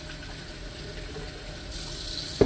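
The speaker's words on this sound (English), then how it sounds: "I just rinse them" Tap water running steadily at close range while plant cuttings and their root balls are rinsed before going back into a vase, ending in a brief louder splash.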